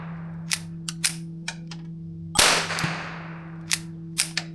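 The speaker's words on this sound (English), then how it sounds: "we will be shooting the .22 long subsonic" A Ruger MKIV pistol fires .22 long subsonic rounds in a string of sharp, fairly quiet reports, about nine shots in irregular rhythm, one louder blast with a longer ringing tail in the middle.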